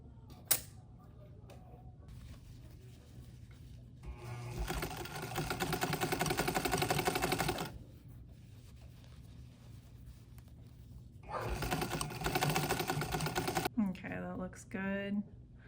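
A straight stitch sewing machine runs over stretchy fabric in two long bursts of steady rapid whirring, with quieter pauses between them and a brief sharp click near the end.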